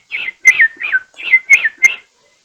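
A person whistles an imitation of an American robin's song, six clear warbling phrases with short pauses between them, close and loud, with no talk.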